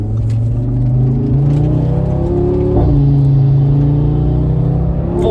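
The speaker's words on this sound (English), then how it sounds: "Full throttle." A 2018 Audi RS3 engine pulls hard at full throttle, a loud continuous roar climbing in pitch, dipping briefly at a gear change, then rising again, heard from inside the car without talk.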